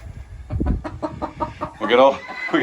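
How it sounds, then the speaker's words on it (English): Backyard chickens cluck and squawk in a coop with a run, a series of close, irregular clucks rising into a louder burst of agitated calls near the end. "the chickens that Ray wants to raise, which is why we got this coop with a run"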